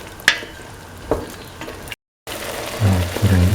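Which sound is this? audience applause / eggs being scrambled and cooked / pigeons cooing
eggs being scrambled and cooked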